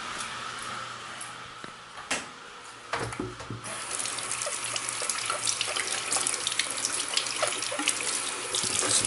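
Water from a tap runs steadily into a sink to rinse a refractometer during reef aquarium maintenance, starting with a few splashes and then pouring continuously and fairly close for most of the clip.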